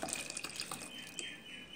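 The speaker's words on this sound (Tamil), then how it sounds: "இதை நம்ம நல்ல தண்ணி ஊற்றி அலசிட்டு" Water poured over fresh chhena curds to rinse them while making rasagulla, a steady close splashing wash with no talk.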